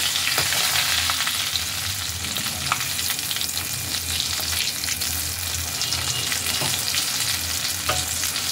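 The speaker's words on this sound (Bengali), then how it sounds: "এভাবে লালচে করে ভেজে নিতে হবে।" Oil sizzles and crackles continuously in a pan as small tapse (topse) fish fry over a medium-low gas flame, a steady frying hiss with occasional sharper pops.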